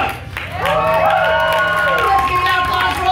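A poetry slam audience at the Utah Arts Festival finals claps and cheers for a poet, with rising whoops and shouts riding over loud, sustained applause that fills the whole moment.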